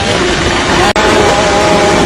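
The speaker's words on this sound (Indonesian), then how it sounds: "Geber-geber motor di jalan." A motorcycle engine roars loudly and steadily on a street with a droning whine, cutting out for an instant before revving on again.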